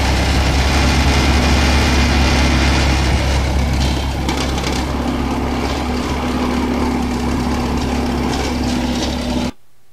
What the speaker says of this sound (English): you can tell by the sound of the engine, it needs a bit of work, but it does run